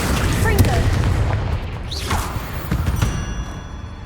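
A Confringo fire spell blasting in Hogwarts Legacy, a booming burst heard among continuous game combat noise with overlapping sound effects and scattered thuds, fairly loud throughout.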